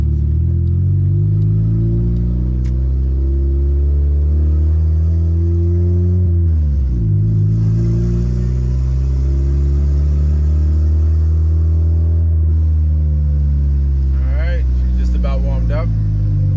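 Turbocharged D16Y8 Honda Civic engine drones steadily inside the car while driving, with a low rumble that dips and rises as it shifts and revs, under people talking.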